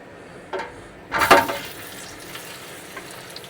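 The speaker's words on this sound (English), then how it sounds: "So I'm just going to add the potatoes in there, hopefully." Potatoes tumble into a roasting pan for a roast chicken dinner, landing in one short, loud clattering burst with a faint earlier knock and quiet kitchen sounds afterward.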